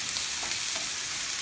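Small, long green peppers fry in a pan for a bream fish dish, giving a brief, steady, close hiss of oil with no pauses.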